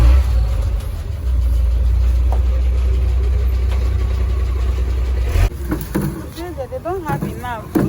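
A bus rumbles in at a roadside stop with a low, steady engine drone that cuts off abruptly, followed by people talking nearby.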